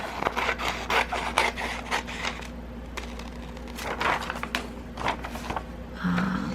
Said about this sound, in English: So I'm just gonna rip off the cover here.